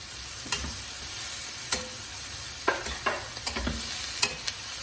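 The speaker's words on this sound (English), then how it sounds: "Now I'm going to add the potatoes. These are 2 medium sized boiled potatoes." Two boiled potatoes go into a frying pan for a quick healthy snack, with a faint sizzle under scattered scrapes and clinks from a spoon, near and fairly quiet, no voices.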